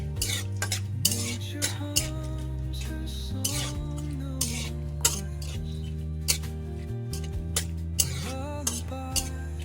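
Cashews and almonds frying with a soft sizzle while a utensil repeatedly scrapes and clinks against the pan, with steady music playing underneath.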